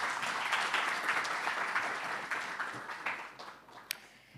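An audience at a community dialogue applauds a speaker, a steady wash of many hands clapping that holds for several seconds and then thins out toward a few scattered claps at the end.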